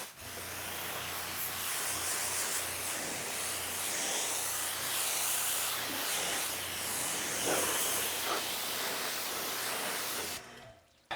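A steady, broad hiss of water spray rinsing bug remover off the front of a car runs for about ten seconds, fairly close, then cuts off abruptly near the end.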